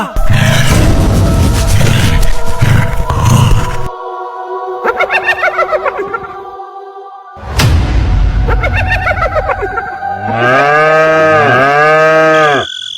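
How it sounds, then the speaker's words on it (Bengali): Cows bellow loudly in a village cowshed, with several long, drawn-out lowing calls in a row. A pulsing, wavering cry closes the sequence. "গোয়ালে গরুগুলো এমন চিল্লাচ্ছে কেন বলো তো?"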